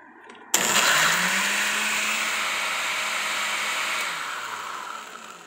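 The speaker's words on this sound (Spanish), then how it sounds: "Y lo ponemos en la licuadora." A kitchen blender blends spicy guacamole ingredients with salt, starting with a sudden loud burst and then whirring steadily at a high, even pitch for several seconds before easing slightly.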